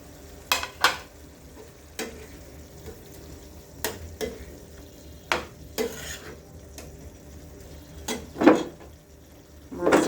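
Hilsa fish pieces dropped one by one into hot mustard oil in a pan, giving a series of sharp sizzling bursts and light clatter over a quiet background hiss.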